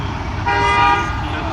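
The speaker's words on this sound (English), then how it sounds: "this goddamn devil honking his horn" A car horn on a street blares in one sustained, loud blast lasting about half a second, standing out over the surrounding traffic noise.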